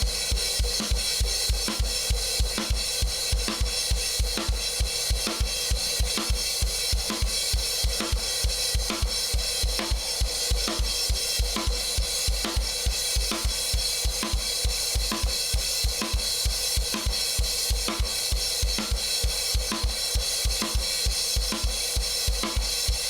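A drum kit plays a triplet groove: evenly spaced hits with a snare in between, steady and driving for over twenty seconds under a wash of cymbals.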